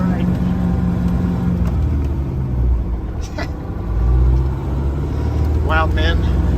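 A 1986 GMC Astro cab-over truck rumbles along on a rough ride, its engine a steady low drone with a brief swell partway through, while voices talk over it.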